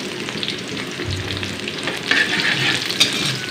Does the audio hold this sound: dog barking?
no